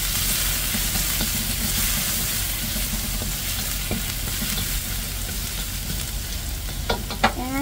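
Chicken hot dog and garlic stir-frying in a pan with very little oil, a steady loud sizzle throughout with occasional scraping clinks, no talking.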